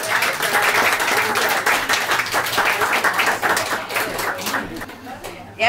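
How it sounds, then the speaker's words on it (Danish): Applause from an audience in a Danish gathering, steady dense clapping throughout at close range with chatter and voices mixed in, fading slightly toward the end. "Så må vi næsten klappe af."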